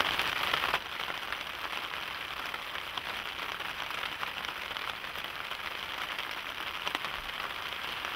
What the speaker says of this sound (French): Le son de la pluie